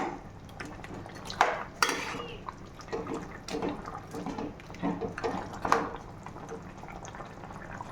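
Spoon scraping and clattering against a pot while chicken curry is stirred, with wet squelching of the pieces and a few louder knocks, steady and close for the whole stretch.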